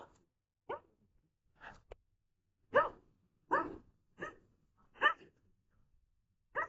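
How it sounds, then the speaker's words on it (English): Dogs bark in short separate bursts, about eight sharp barks spaced irregularly against near silence, fairly close and moderately loud. "Dogs are going nuts here."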